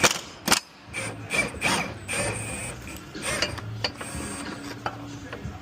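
A hand ratchet works the last control arm bolt on a 2015 Subaru Forester during a lower control arm repair: close, rapid clicking bursts with pauses between strokes and a faint creak.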